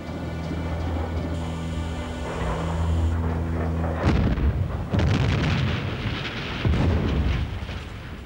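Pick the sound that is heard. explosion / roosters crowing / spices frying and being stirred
explosion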